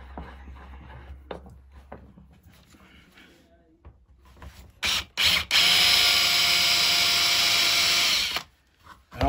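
A cordless drill bores leg holes into a wooden workpiece for a nutcracker, with quiet handling and shuffling first, then a couple of brief bursts before a loud, sustained whine of the bit cutting through wood that stops abruptly.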